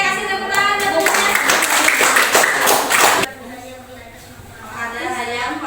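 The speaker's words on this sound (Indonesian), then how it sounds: "Oke, kasih tepuk tangan tentunya." Applause breaks out after a group's presentation at a training session, a short burst of many hands clapping that cuts off suddenly, followed by quieter room noise with some talking.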